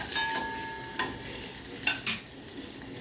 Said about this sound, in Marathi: चांगल्या चांगला परतून घेणार चांगल्या पांढऱ्या होईपर्यंत या परतून घ्यायच्या